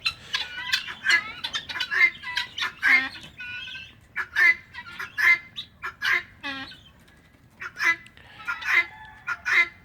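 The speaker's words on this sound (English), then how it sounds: "Just get 50, 60 guineas in one spot, close to the house." A large flock of guinea fowl gathered near a house calls in dense, overlapping harsh squawks and rhythmic chattering cries, loud and close, continuing without pause.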